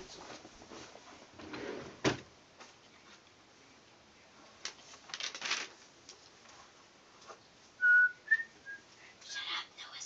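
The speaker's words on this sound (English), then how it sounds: "shut up, no whistling." A child in a home play-school setting whistles a few faint, short high notes near the end, amid quiet room noise, rustling, a thump and soft bumps.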